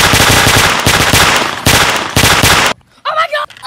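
Rapid bursts of automatic gunfire from an army-themed video game, loud and close, in several long rattling volleys with brief gaps, ending in a short quieter moment with a faint voice.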